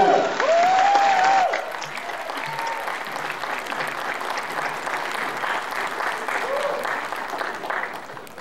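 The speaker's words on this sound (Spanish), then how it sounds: "Nuevamente un fuerte aplauso." Loud sustained applause from a crowd at a university graduation ceremony, continuous and close, with a voice briefly calling out over it at the start and a mild swell near the end.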